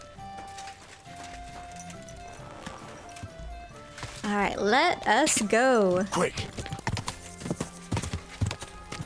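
Horse hooves clip-clop in the medieval video game Kingdom Come: Deliverance II, a steady trotting rhythm with a loud neigh partway through, while someone speaks briefly over it.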